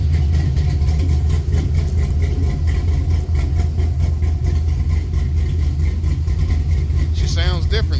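A Ford OBS truck engine, freshly fitted with 706 cylinder heads, idles with a steady low rumble throughout, close by, while people talk over it.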